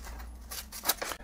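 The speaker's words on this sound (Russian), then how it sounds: "Режет, но, в общем-то, неохотно." A Gerber GDC Money Clip knife with a blade that cuts poorly slices through a sheet of paper, making a short, faint, rasping cut of a second or so with a sharper scrape near the end.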